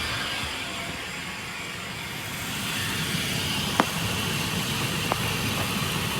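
A 2001 Chevy Suburban engine idles steadily right after an oil change, a low, soft hum under broad hiss, with a couple of faint clicks along the way.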